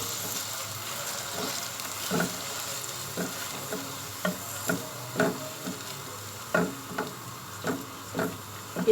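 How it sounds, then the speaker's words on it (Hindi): Chopped medium-sized onion frying in oil, a soft steady sizzle beneath repeated light scraping strokes of a stirring spoon against the pan, ticking out at irregular intervals. "इसको हम फ्राई करेंगे प्याज को।"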